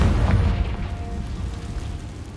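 Confringo blasting spell explosion in Hogwarts Legacy: a heavy, close boom at the very start that rolls off into a low rumbling decay.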